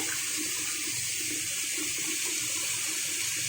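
Water is poured from a steady stream into a pan of ground spice masala of chili, turmeric and coriander, a continuous close splashing hiss lasting a few seconds.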